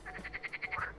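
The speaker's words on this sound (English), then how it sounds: "Listen to the frogs applauding." Frogs by the water give a quick, even run of about ten rhythmic croaks, faint and somewhat distant.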